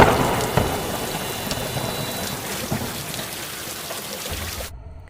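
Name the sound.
heavy rainstorm with thunder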